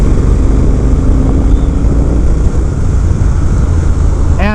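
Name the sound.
Triumph Speed Twin 1200 motorcycle exhaust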